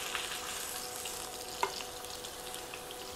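A seasoned roast, seasoning side down, sears in hot oil in a pan with a steady, close crackling sizzle and one sharper pop partway through, with no talking.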